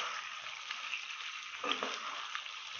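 Food for chili chicken fries in a pan with a faint, even sizzle and a soft stir or scrape near the middle, quiet and distant-sounding with no talk.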